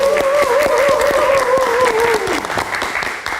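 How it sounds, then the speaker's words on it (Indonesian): Studio audience applause on a live late-night talk show, a dense, loud wash of clapping that runs steadily throughout with a sustained tone riding over the first part, thinning slightly toward the end. "Oke, kita kasih tepuk tangan sekali lagi."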